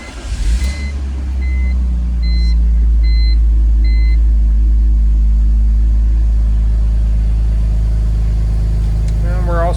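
A 2004 BMW 330ci ZHP engine cold-starts up close, catching with a loud burst and then settling into a steady, deep idle rumble with a few faint high beeps early on.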